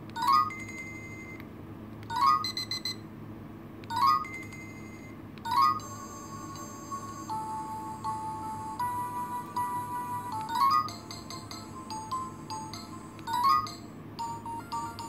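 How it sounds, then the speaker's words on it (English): A string of short, bright electronic alarm melodies from a Cocomelon Musical Learning Watch, each starting with a sharp beep burst and changing to a different tune as they cycle through. "This should be which alarm tone do I want?"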